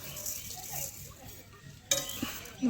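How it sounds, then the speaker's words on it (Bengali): Sugar being stirred into jorda semai vermicelli in a pan, with soft scraping and a few sharp clinks of the utensil against the pot while someone talks. "এবারে এই যে চিনিটা আছে চিনিটার মধ্যে দিয়ে দেবো"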